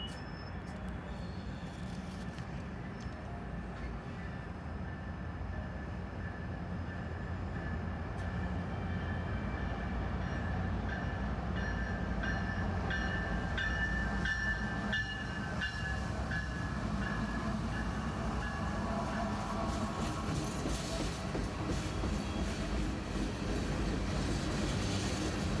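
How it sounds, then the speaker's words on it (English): A freight train rumbles out of the Howard Street Tunnel, a continuous low rolling roar with rail clatter and metallic squeals that build and hold steady at moderate distance. "but it does have a train about to come out."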